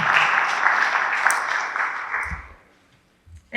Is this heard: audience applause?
yes